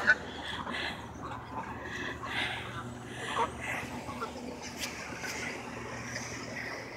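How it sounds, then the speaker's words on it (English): Mallard drake quacking outdoors during feeding, mixed with other waterfowl; soft, scattered calls over steady background noise with faint voices nearby. "he's a mallard duck"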